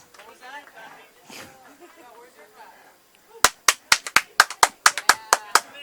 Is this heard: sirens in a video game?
no